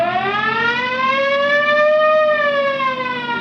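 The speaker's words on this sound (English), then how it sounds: "You want to hit the siren?" A police car siren wails steadily, rising slightly and falling back in one long continuous tone, loud and close.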